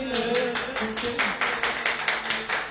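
Audience clapping at a folk music performance, a rhythmic run of claps in even beats that keeps going throughout, with some voice sound underneath.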